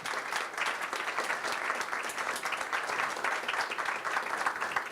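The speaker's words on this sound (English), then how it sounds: "Please, great applause for Marija." An audience at a policy roundtable applauds a panelist, giving a sustained, even round of many hands clapping that fills the room from start to finish.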